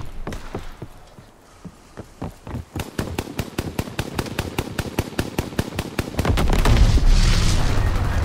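Rapid bursts of bangs and blasts from an enemy aircraft strafing run in the World War II shooter Call of Duty: WWII, dense and rhythmic, then building into a heavier, continuous rumble near the end.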